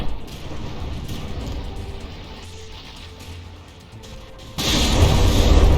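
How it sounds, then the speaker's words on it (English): Battleship guns in the From the Depths video game fire and land hits: muffled distant booms and mechanical clatter roll through, then a heavier close blast surges near the end. "that rear gun taking several direct hits"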